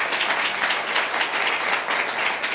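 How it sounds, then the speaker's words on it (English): An audience at a poetry reading claps in a dense, even wash of applause that holds steady from start to finish with no talking. "Give him a hand clap."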